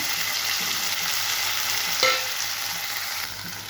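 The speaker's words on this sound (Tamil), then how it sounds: "இப்போது கொத்தவரங்காயை நல்லா ஒரு கிளற கிளறி விட்டுட்டு" Cluster beans fry with onions in a pan, sizzling steadily and loudly up close while a spoon stirs them, one sharp scrape standing out midway; no voices.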